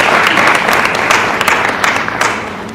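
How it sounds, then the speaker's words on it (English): A conference audience gives the panelists a loud, dense round of applause that stays steady throughout, with only a slight easing toward the end. "A round of applause for the panelists."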